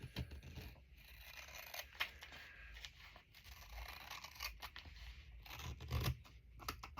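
Scissors snip and slide through magazine paper for a collage glue book, close, steady crisp cuts with light paper rustling between strokes.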